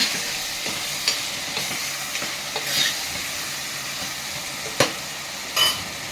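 Quarter kilo of mutton with a spoon of turmeric frying in a pan, with a steady close sizzle and occasional louder stirring scrapes and clinks against the pan, no talking.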